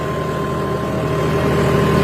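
A John Deere 5210 tractor engine runs steadily in C2 gear in a field setting, giving a constant low, loud drone with no break.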